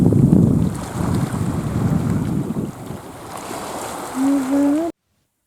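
Waves lapping on the shore of Pangong Lake under strong gusting wind, a loud rushing wash that slowly fades, followed by a brief voice near the end.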